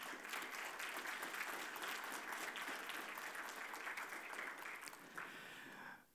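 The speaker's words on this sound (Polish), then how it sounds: "Ogromne brawa." An audience at an awards ceremony gives sustained applause, a steady wash of many hands clapping that holds evenly and then tapers near the end, heard from some distance.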